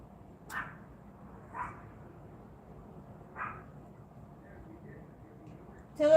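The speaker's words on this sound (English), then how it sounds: "stop barking" A dog outdoors on a cold night gives three spaced, fairly distant barks over quiet background, ending in a sudden louder burst.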